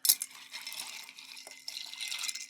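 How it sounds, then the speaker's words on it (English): Ice stirred in a cognac Manhattan-style cocktail, giving a light, continuous liquid swirl with faint clinks from a bar spoon, close and fairly quiet, with a small sharp clink at the start. "Both of these get ice. And a stir."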